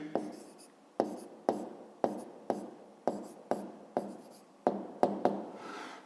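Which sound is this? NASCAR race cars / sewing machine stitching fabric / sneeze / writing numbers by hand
writing numbers by hand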